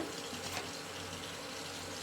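Water gushes steadily from a kitchen tap as moong dal and toor dal are rinsed for sambar, a short soft continuous splashing stream heard alone.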